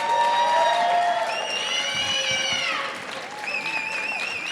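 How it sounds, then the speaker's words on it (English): An audience at a nursing pinning ceremony applauds with loud, sustained clapping, topped by high whoops and cheers that rise and fade before the crowd noise settles lower. "Let's applaud this class for their success."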